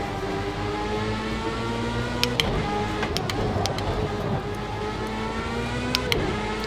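Race car engine in the PC game Project Cars 2, a steady mid-pitched drone with whirring harmonics, loud and continuous, with brief sharp clicks and shifts in the middle and near the end.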